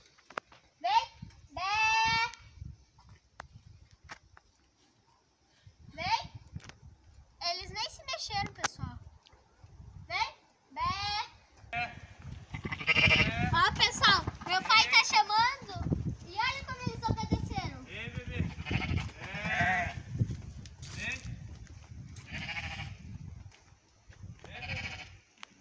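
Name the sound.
sheep bleating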